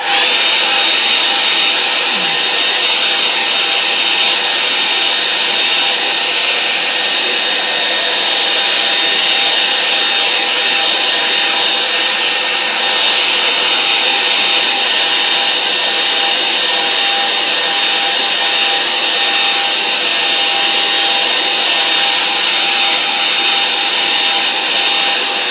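A hair dryer dries a watercolour landscape painting, giving a steady, loud, close whir that runs unbroken throughout with no speech.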